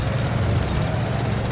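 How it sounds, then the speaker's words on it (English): A jackhammer extracting a resource deposit in the game The Alters, a loud, dense, continuous rattling hammering that holds steady throughout with no talk. "he uses a jackhammer to do this, or some kind of a drill"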